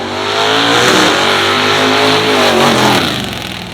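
A Buick-engined car of about 4,000 pounds, no nitrous, revs loudly at the start of a drag run, its engine note rising and falling steadily up close with no voices.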